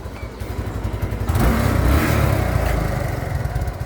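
A Kawasaki Barako 2 motorcycle with heavy exhaust smoke runs close by, a steady low engine rumble that swells louder partway through and holds, with no talk over it.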